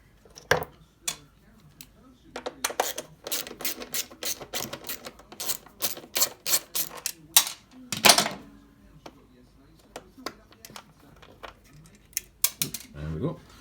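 Metal bolts and Allen screws clink and rattle as they are worked loose from the chain guard of a 1987 Honda CBR600F under restoration, a busy run of close, sharp metallic ticks and taps with a louder clatter near the middle.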